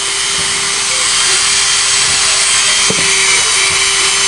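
A loud, continuous high-pitched whine of a mini grinder cutting a scooter crankcase cover, steady throughout with a brief sharper scrape near the end.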